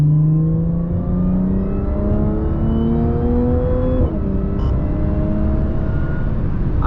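A supercharged car fitted with an AWE Touring exhaust accelerates hard, its engine note rising steadily through one gear before a brief drop at the shift, then climbing again, loud and close with a smooth whirring tone.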